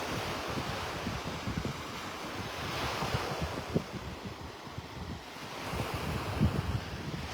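Ocean waves wash steadily onto Vanderbilt Beach in North Naples, Florida, a continuous broadband surf roar with gusts of wind buffeting the microphone and no voices.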